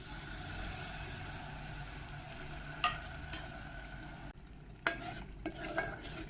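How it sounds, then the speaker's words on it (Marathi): Water added to mutton masala frying in a pan, with the masala being stirred: a steady close hiss of frying, with louder scraping stir strokes and bursts of sizzle toward the end, and no speech. "त्याच्यानंतर आता हे जे पाणी आहे हे मी यात घालणार आहे"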